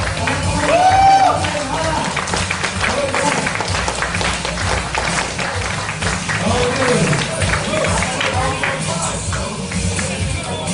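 A crowd at a remittance business presentation applauds and cheers to welcome the company president, with dense, steady clapping running throughout at fairly loud volume.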